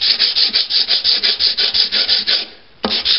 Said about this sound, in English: I usually like to get my edges cut in all around first with the sanding, and then I'll go back and hit the middle areas.